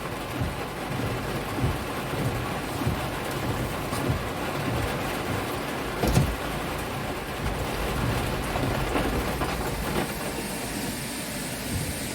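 Heavy rain pours steadily at Palembang airport in Indonesia, a dense continuous wash of noise with a faint low rumble underneath and no speech.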